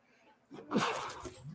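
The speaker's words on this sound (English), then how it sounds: "Oh, I gotta sneeze." A single sneeze bursts out close by, a short breathy blast lasting about a second, with no one talking over it.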